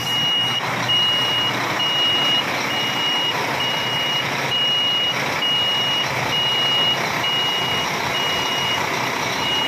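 A Howo NX 400-horsepower truck's reversing buzzer beeps in a steady, evenly spaced rhythm over a constant low engine rumble, loud and close.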